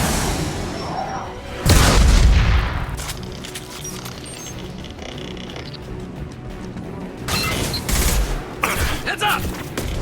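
Gunfire from a firefight against geth in Mass Effect 2: a loud burst of shooting and a boom around two seconds in, sustained rattling fire underneath, then another heavy volley near eight seconds.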